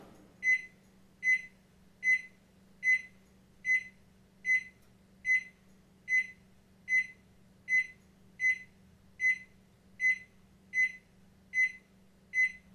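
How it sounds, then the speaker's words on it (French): A modified microwave oven beeps steadily, about sixteen evenly spaced, identical clear tones over a low hum, close and alone with no talking. "j'ai modifié mon micro-ondes pour qu'il fasse 9 bips au lieu de 4"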